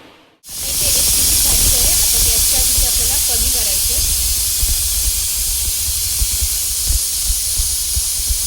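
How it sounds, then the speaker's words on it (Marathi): A pressure cooker of soya pulao releases steam in a loud, sustained hiss that bursts on suddenly and keeps going, with brief fluttering whistle tones early on and a faint voice underneath. "कुकरचं झाकण लावून एक शिट्टी काढायची"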